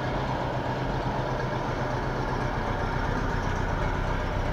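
A Citroën DS engine runs steadily just after starting, a low, even idle drone with no voices over it.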